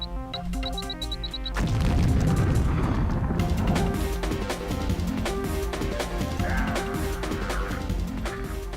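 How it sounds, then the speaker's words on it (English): A grenade explodes in Deus Ex, a sudden heavy boom that bursts in after a quiet stretch and leaves a dense rumbling, crackling wash mixed with game music and effects for several seconds. "Threw a grenade down here"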